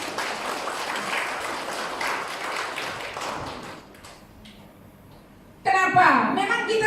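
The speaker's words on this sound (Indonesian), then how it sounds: "Tepuk tangan dulu bagi mereka." Applause from a church congregation during a worship service, a dense patter of many hands that fades after a few seconds and is followed by louder mixed sound.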